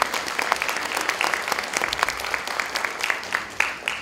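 An audience at a carol and pastoral song festival claps in a steady, moderately loud round of applause, with individual sharp claps standing out across a few seconds.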